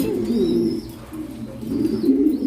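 Racing pigeons coo in low, throaty rolling calls close by, a steady soft burbling with a brief lull midway, faint chirps above.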